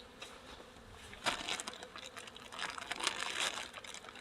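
Honeybee colony buzzing steadily while combs and plastic are handled during pre-winter hive work, with occasional crinkling and scraping louder at moments; no talk.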